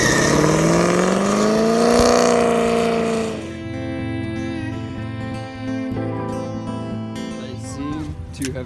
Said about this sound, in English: That's a pretty sick Camaro.